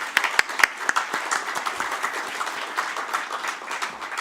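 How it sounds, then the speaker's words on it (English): Audience at a book launch event applauding, a moderate round of clapping from a modest crowd, steady and fairly close, with no talk over it. "a big round of applause?"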